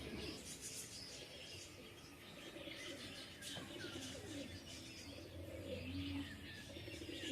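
Madrasi pigeons coo softly at a village loft, with scattered chirps and a brief flutter of wings over a low, steady outdoor background; quiet and somewhat distant.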